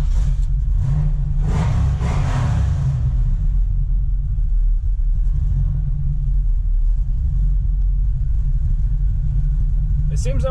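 Engine of a Camaro with a swapped LS V8 and a lumpy potato cam, rumbling deep and loud throughout with a rev swell in the first seconds, then settling into a steady, choppy idle.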